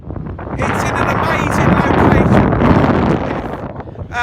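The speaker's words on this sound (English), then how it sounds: "It is windy here." Strong wind buffeting a microphone at an abandoned World War II communications centre on an exposed northern site, loud roaring gusts that swell and fade with heavy rumble.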